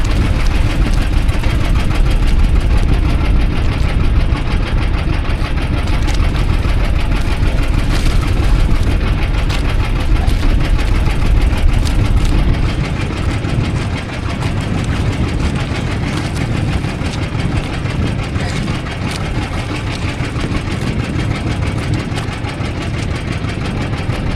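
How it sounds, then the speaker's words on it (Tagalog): Steady low motor drone of approaching boat engines running continuously, loud and close, with a slight drop in level partway through. "lumapit sa akin yung mga bangka"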